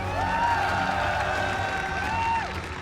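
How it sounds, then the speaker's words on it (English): Cheering and whooping rise from a live crowd at a StarCraft 2 esports tournament semifinal in Singapore, sustained and fairly loud with a broad wash of voices. "Tons of crowd support there for DongRaeGu"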